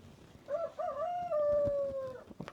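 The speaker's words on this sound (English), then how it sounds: "Clearly one of my roosters is outside of its run again." A backyard rooster loose from its run crows once outdoors, a clear, fairly close cock-a-doodle-doo with a rising start and long drawn-out tail, ending with faint rustles.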